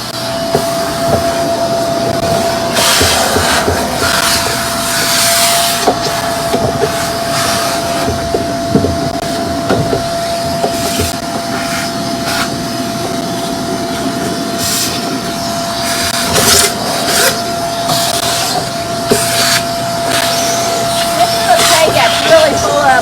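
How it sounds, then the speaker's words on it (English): A vacuum cleaner runs steadily throughout while cleaning crumbs and dust out of a Glowforge laser cutter, with a constant loud motor drone, a few brief bumps and rattles as the nozzle moves, and a voice speaking intermittently over it. "I'm going to turn on the vacuum again"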